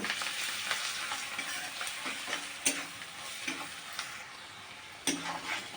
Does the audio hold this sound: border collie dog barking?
no